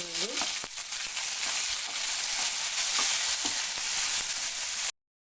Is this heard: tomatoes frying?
yes